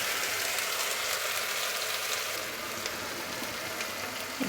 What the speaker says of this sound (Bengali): তেলটা ছিটছে